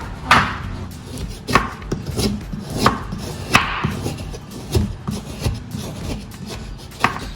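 Soft jaggery being cut with a knife, a series of irregular chopping thuds and scraping strokes on a board, close and moderately loud, with no talking.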